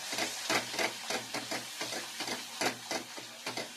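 A spoon stirs red chili powder into a spiced mixture in a frying pan, making rhythmic scraping and rubbing strokes with a soft sizzle beneath them, close by and without talk.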